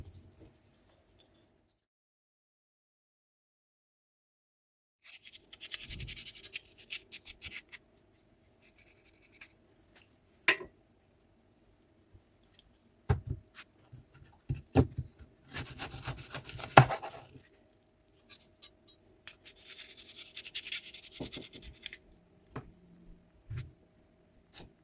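A knife scrapes green skin and seeds from an apple being prepped for an apple and cucumber smoothie. Intermittent bursts of quiet rubbing and scraping come between silent pauses, with a few sharp taps.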